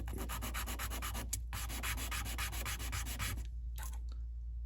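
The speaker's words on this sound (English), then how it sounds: "Get you a coarse sanding stick." Steady scratchy rubbing of a coarse sanding stick on an M422 Mighty Mite scale model, continuous strokes close up with a brief pause near the end, no voices.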